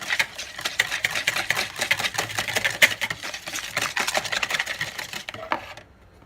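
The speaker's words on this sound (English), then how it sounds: "Now I have beaten my egg and I have added the required oil, and I will add the required butter also. Just whisk it." Beaten egg with oil and butter whisked by hand in a bowl for a honey cake, a quick, steady series of close rhythmic clicks and scrapes that run evenly before tapering off at the end.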